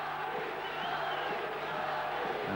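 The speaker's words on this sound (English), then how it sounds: "the crowd in Toulouse trying to give their man a final lift" A boxing crowd in Toulouse roars in a dense, continuous wall of cheering and shouting during a 1984 bout. The sound holds at a steady level with no pauses.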